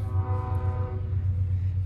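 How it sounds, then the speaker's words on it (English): A train goes by in steady continuous rumble with a sustained low tone and faint horn-like harmonics, loud and close throughout, with no talking. "Here comes a train."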